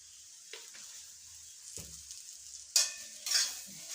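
Mulberry leaf thoran is stirred in a pan after coconut oil goes in, with faint frying beneath a few scrapes of a utensil and two sharper sizzling bursts toward the end.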